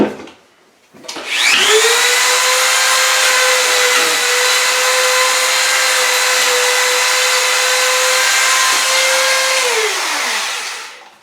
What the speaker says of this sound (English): Got one more here to grind out.